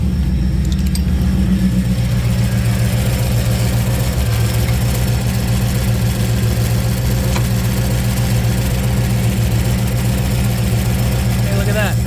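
GM F-body car engine idling steadily nearby with a constant low rumble and mechanical hum that continues throughout.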